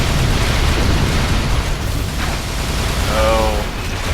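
An orb is shot down and explodes in Unreal Tournament 3 on the Downtown map: dense, loud, continuous roaring blast noise fills the whole stretch, with a brief rising whine near the end.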